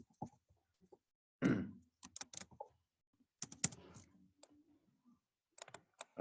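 Typing a password on a computer keyboard: scattered bursts of close key clicks and taps in short irregular runs separated by silent pauses, fairly quiet and without talk.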